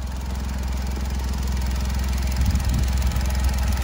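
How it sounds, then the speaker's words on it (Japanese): A Honda S660 (JW5) with an HKS turbo, aftermarket air intake, muffler and Trust intercooler idles close by, giving a steady, low, even rumble that holds for several seconds without revving. "はい、エンジンかけてみました。"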